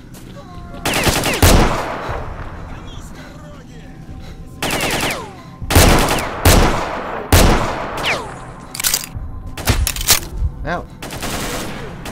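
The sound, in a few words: gunfire from a video game, S.T.A.L.K.E.R. Shadow of Chernobyl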